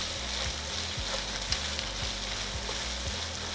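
Pork sizzles loudly in a hot pan with hoisin sauce for Thai basil pork, a dense, steady frying hiss broken by regular scraping stir strokes, close up and without talk.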